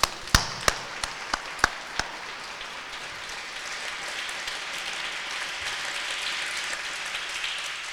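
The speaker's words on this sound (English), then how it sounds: "Oh, one last round of applause." A final round of applause fills the hall at a student awards night, opening with several loud, distinct claps before settling into a soft, sustained rain-like patter of many hands.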